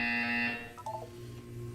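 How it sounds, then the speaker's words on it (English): A buzzer from the video game Portal 2 gives one loud, steady harmonic buzz lasting about half a second, then quickly dies away into faint, brief tones. "When you hear the buzzer, look up at the ceiling."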